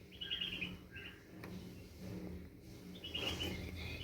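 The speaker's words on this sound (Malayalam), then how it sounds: "ഈ കിളിയുടെ കുഞ്ഞ്" Baby bird chirping in two short bursts of high, rapid tweets, one near the start and one near the end, over a low steady background hum.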